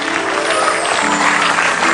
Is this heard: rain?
no